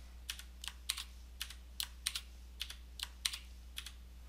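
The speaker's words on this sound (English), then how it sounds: "just tabbing down using my arrow keys to put them all in place" Arrow keys on a computer keyboard tapped about a dozen times in an irregular rhythm, each press a sharp, close click over a low steady hum.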